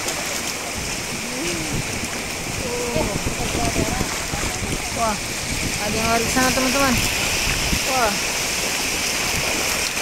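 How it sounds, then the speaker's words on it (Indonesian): Big waves wash over a toy truck at the shore, a steady broadband surf rush filling the whole stretch, with excited voices talking and exclaiming over it throughout. "Terus sekali di tengah ombak."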